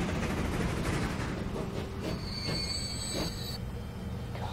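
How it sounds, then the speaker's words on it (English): Train wheels squeal against the rails in the Transport Fever video game, with a sustained high-pitched screech layered over a steady rumble of rolling railcars, heard up close and without speech. "Should we have a ride on one of the trains?"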